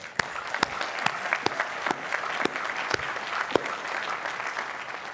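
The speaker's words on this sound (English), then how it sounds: "I'd like to give that group a round of applause also" Commencement crowd at Carnegie Mellon applauds, a steady wash of many hands heard from a distance with scattered sharper claps standing out.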